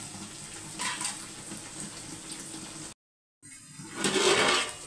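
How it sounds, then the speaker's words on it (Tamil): Ground masala spatters and sizzles in hot oil for chicken biryani, a hissing, crackling fry that drops out briefly and then swells louder. "நல்லா தெறிக்குது."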